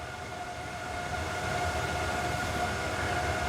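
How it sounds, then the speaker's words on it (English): A fan runs as a steady broadband whoosh with faint tonal hum, heard on one side of a curtain while a sound-dampening blanket is tested, continuous and fairly loud throughout. "you can definitely hear the fan sounds to that"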